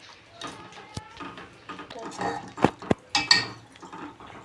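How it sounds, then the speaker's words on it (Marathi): A spoon stirs gram flour into chickpea greens in a pot, producing scattered clinks and scraping knocks against metal, with a few sharper taps, while a person talks over the cooking. "आता आपण याला चांगले एकजीव करून घेऊ."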